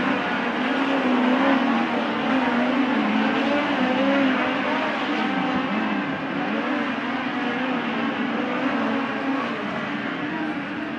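A USAC midget race car on a qualifying lap at Merced speedway roars continuously, its engine a steady, loud, buzzing drone that rises and falls slightly as it circles the track.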